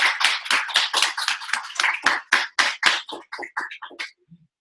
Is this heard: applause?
yes